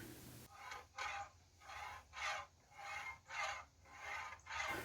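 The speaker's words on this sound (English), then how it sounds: "this is me finishing up this sword with 3000 grit" A katana blade is sanded with 3000 grit paper in slow, even back-and-forth strokes, about one per second, a soft close rasping with brief gaps between passes.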